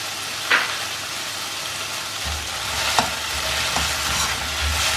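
Egg and tomatoes stir-frying in a pan with a splash of soya sauce, a steady hiss of frying broken by a few scraping stirs and clinks of the spatula.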